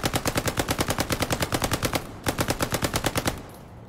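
Automatic weapon fire in Hell Let Loose: two long, rapid, evenly spaced bursts of loud, close shots, the second starting after a brief pause and ending abruptly, with no talk over them.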